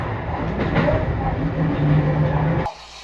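A train on a mountain line in Tokyo rumbles steadily along the tracks with a low, continuous roar and faint rhythmic rattling, then the noise drops off abruptly near the end as it nears a station.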